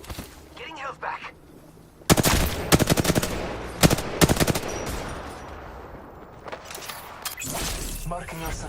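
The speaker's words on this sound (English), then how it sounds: "I am taking fire" Rapid bursts of automatic gunfire from a shooter video game rattle loudly in repeated volleys, separated by short pauses, with game sounds and effects filling the gaps.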